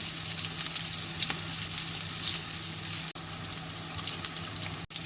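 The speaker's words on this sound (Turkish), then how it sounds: "Köftelerimiz kızarmaya başladı. Çeviriyorum şu an." Steady, loud sizzling of meatballs frying in a hot pan, continuous crackle throughout with two brief cutouts.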